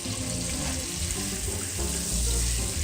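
Steak sizzling loudly in a hot pan with butter, garlic and thyme being basted over it, a dense, continuous close frying crackle with no talk.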